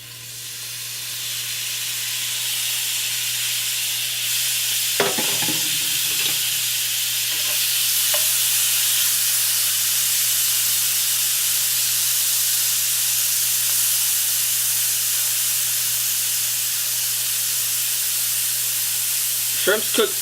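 Shrimp taco mixture with an oily marinade cooks over medium heat in a cast iron skillet, giving a steady, close sizzle and hiss throughout, with a few brief clinks and stirring scrapes.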